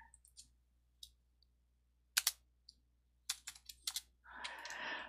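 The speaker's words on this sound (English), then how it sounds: "I'm going to save myself some typing here." Typing on a computer keyboard while setting up a C++ programming project, with sparse, quiet key clicks followed by a quick burst of several keystrokes and a short rustle at the end, no talk.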